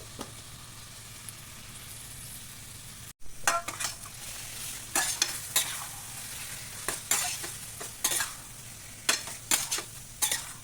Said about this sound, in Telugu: ఈ వంకాయ పేస్టును వేసి బాగా కలుపుకోవాలి